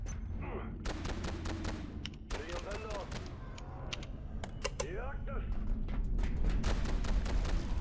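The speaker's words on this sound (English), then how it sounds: "I have beam gun noises." Beam gun fire in the video game Abiotic Factor: repeated sharp zapping bursts in irregular volleys, some with sweeping tones, over a steady low game rumble.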